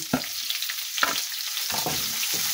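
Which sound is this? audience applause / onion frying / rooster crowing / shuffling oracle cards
onion frying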